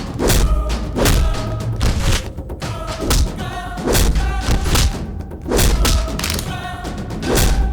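Heavy punches thud one after another in a dubbed film fight scene, each blow close and booming, struck in a rough steady rhythm over several seconds.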